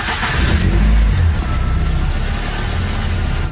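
A Ford Orion ST170 conversion engine running loud and close just after starting, a steady rumbling drone that swells briefly at first and then settles into an even idle.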